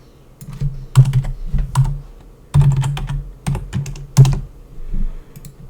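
Bursts of computer keyboard typing during a live data-cleaning coding session, quick clustered keystrokes in irregular runs with short pauses, close and clear with no voices.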